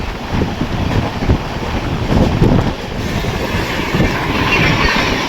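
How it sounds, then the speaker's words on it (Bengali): The Berhampur–Udhna Amrit Bharat Express passes close by with a loud, continuous rumble of railcars and rhythmic clickety-clack of wheels over rail joints, plus wind buffeting, and no talk. "তার পরপরই ব্রহ্মপুর উদনা অমৃত ভারত এক্সপ্রেস"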